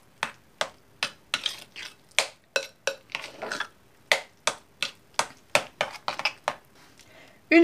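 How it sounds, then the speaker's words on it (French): Spoon scraping and tapping while stirring sweet potato into a thick homemade chocolate spread, a run of quick, sharp strokes in an even rhythm, close and clear with no talking. "il reste à mélanger notre patate douce à notre chocolat"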